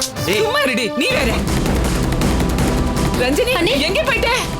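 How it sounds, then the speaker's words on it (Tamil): A burst of gunfire aimed at a house in a Tamil TV serial scene, starting as a sharp crash about a second in and continuing as rough noise under loud, dramatic music. "நம்ம வீட்ல யாரோ கன் ஷூட் பண்றதுக்கு ட்ரை பண்ணிருக்காங்க."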